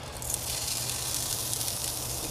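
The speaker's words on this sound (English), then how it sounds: "Let's go ahead and put a few slabs of bacon on there, see if it's nice and hot" Bacon slabs sizzle on a preheated cooking stone, a steady dense hiss and crackle filling the whole moment without any voices.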